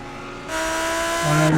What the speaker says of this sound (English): Fifth gear and down the gearbox,